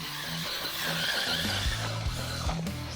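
Brushless 1/12 HUNTER RACING UD2301B RC buggy with a 4400 kV motor running at full throttle, a loud steady electric whine with rising pitch sweeps as it accelerates, close by.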